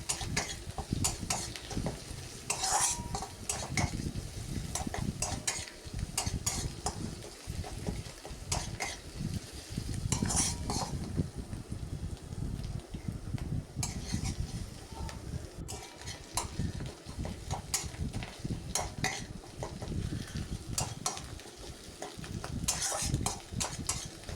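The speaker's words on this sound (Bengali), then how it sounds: "এভাবেই নেড়ে ছেড়ে প্রায় কিছুক্ষণ পেঁয়াজ ও রসুনকে ভালোভাবে কষিয়ে নেব" Onion and garlic fry in a pan while being stirred constantly, a busy sizzle broken by repeated scraping and clinking of the spoon against the metal pan, close and continuous without any talk.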